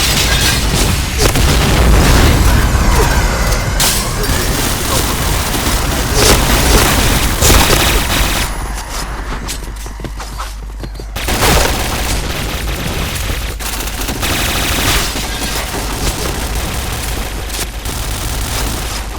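Heavy, booming bomb explosions from the video game Point Blank roll through a dense, continuous battle soundscape, with a brief lull in the middle before the rumbling resumes.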